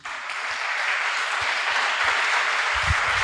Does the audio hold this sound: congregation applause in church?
yes